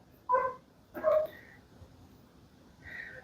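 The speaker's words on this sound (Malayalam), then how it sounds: "പുറത്തൊരു പശ്ചാത്തല സംഗീതം കേൾക്കാം അയൽപക്കത്തെ പട്ടിയാണ്" A neighbour's dog barks outdoors: two short, distant barks close together, then fainter yelps later, all fairly quiet.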